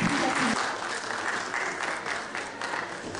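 At a school end-of-year party, an audience claps in a steady, dense burst of applause, with voices faintly present beneath it.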